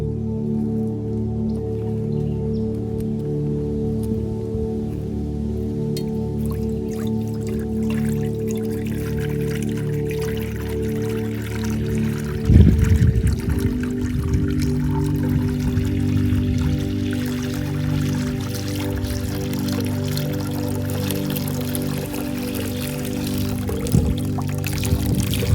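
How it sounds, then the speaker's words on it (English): Water poured into a container for deer outdoors, a steady trickling flow with a louder splash midway, over a constant low hum in the background. "Let me put you some water in, okay?"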